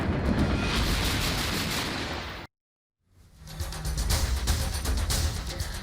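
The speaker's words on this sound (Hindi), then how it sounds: "रूसी सेना के ठिकानों पर यूक्रेन के तोपखानों ने भीषण प्रहार किया है।" Ukrainian artillery firing on Russian army positions makes a loud, dense roar of booming blasts that cuts out abruptly for a moment of silence, then swells back into heavy, rumbling fire.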